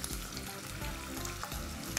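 Bacon frying in vegetable oil in a deep pan, a dense continuous sizzle and crackle heard up close with no voices over it.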